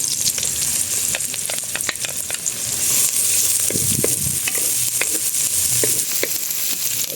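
Plenty of white onions fry in a pan for pork adobo, giving a loud, busy crackling sizzle with scattered pops and stirring scrapes throughout.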